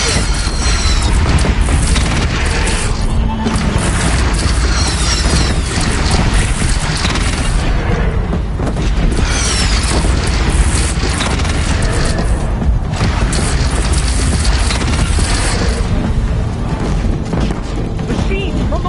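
Repeated deep cannon booms and crashing blasts in a loud battle scene, heavy explosions recurring over a constant rumble, with shouting voices mixed in.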